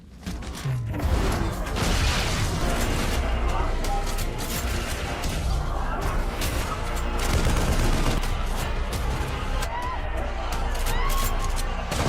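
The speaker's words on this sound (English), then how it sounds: "just gunfire, shouting, and chaos" Dense battle din from a war film, with continuous gunfire, bursts of automatic fire and booms over a loud, chaotic mix of shouting voices and score, sustained throughout.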